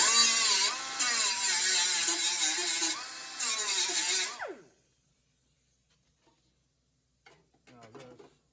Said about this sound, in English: So what I'm gonna do is just grind off this point on the end.